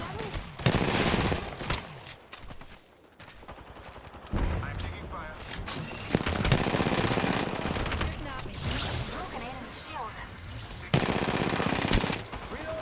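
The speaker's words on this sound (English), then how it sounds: "I'm taking fire." Rapid bursts of automatic gunfire and repeated shots from the video game Apex Legends, in a ranked Arenas match, coming in loud volleys with short pauses, while a player talks over the shooting.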